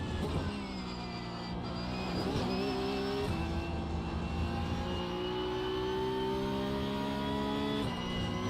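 Porsche Cup race car in a racing video game, its engine droning loud and steady through gear shifts, with harmonic pitch climbing and dropping and some tire noise, no talking.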